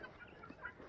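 Backyard chickens and guinea fowl cluck in a brief burst of overlapping bird calls, moderately close and fairly quiet.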